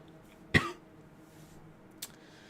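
A man who is sick gives one sharp, fairly loud cough, followed about a second and a half later by a shorter, quieter cough against a faint background hum.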